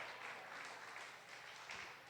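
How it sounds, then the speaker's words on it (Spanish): Quiet, sustained clapping from a church congregation, a soft even patter of many hands that holds steady, heard from a distance. "vamos a darle un fuerte aplauso a Cristo Jesús, Señor nuestro"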